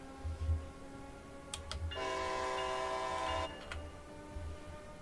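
The Boston Sprinter train in Train Sim World 2 rumbles along with a low rhythmic engine throb, then sounds a sustained horn blast of about a second and a half.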